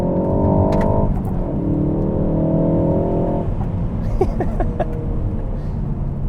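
A 280 hp front-wheel-drive Ford Focus ST accelerating hard from inside the car, its engine rising in pitch through the gears with quick upshift breaks, loud and close, with no voices.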